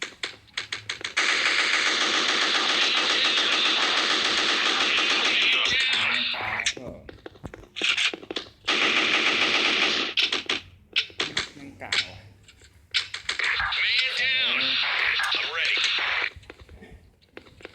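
Rapid automatic gunfire from the online shooter Special Force rattles loudly in long bursts broken by short pauses, with someone talking between and over the shots.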